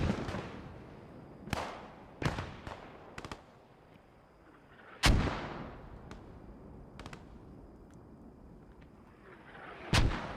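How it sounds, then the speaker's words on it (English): German mortar fire in the World War II shooter Post Scriptum: scattered heavy booms and sharp cracks at irregular intervals, some close and loud, others more distant, with a low battlefield rumble between them. "Good mortars being exchanged there from the Germans as well."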